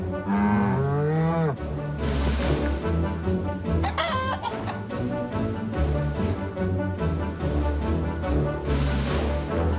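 Cows moo in long, low calls, with a rooster crowing and birds chirping in the background of a busy farmyard.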